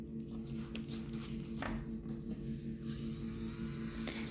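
A nail drill with a sanding bit runs at low speed, a faint close whirring that rises into a steady high hiss halfway through, with soft taps and scratches before it over a low hum.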